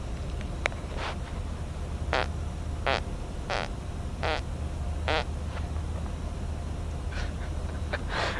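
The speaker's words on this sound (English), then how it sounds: "I have to fart. I want to see if I can get it in my mic." A man farts into a Telex headset microphone, producing a run of about ten short, squeaky, reedy bursts at uneven intervals over a steady low hum, close and fairly loud.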